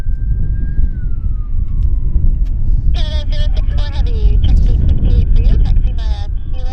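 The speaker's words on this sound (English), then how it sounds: "Here comes an ambulance." An ambulance siren wails across an airport airfield, a falling tone at first and then a rapid warbling pattern, moderately distant over heavy low rumble of wind and engines.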